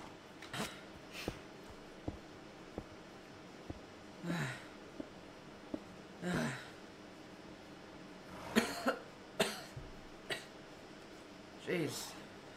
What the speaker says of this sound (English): Jeez, haven't coughed this much before.